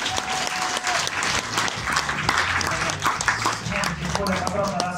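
Audience applauds after a team's presentation at an AI hackathon, brisk clapping across the room with voices and low hum underneath.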